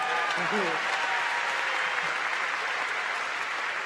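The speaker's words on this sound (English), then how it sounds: "Yeah, you can applaud for them." Continuous audience applause at a university commencement ceremony, dense and steady throughout, with a few brief voices rising over the clapping.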